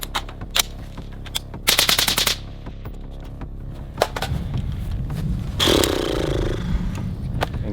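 Rifle firing rounds during a translucent magazine torture test, a sharp burst of rapid shots followed by scattered single reports and mechanical clatter, loud and close with outdoor rumble.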